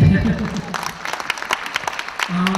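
A lecture audience at a university talk claps in a short, scattered burst, with a speaker's voice over and around the applause.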